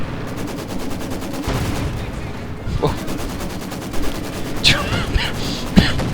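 Maxim machine guns firing in a Company of Heroes 2 battle, with two guns covering one spot: dense, repeated rattling bursts run through the whole stretch under a steady commentator's voice.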